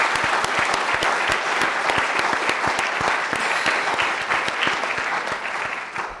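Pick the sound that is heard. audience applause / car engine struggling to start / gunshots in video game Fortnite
audience applause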